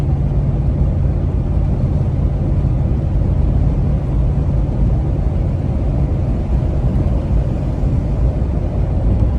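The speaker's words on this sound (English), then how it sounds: "That car's cutting it a little close." A car passing close by on a road, its steady loud engine and tire rumble filling the whole stretch with no voices.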